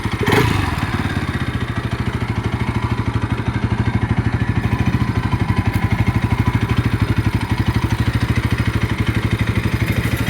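A new Bajaj NS 200 motorcycle engine runs steadily close by, a loud, even mid-pitched idle with a rapid regular pulse and light mechanical clatter, starting with a brief burst and holding constant throughout.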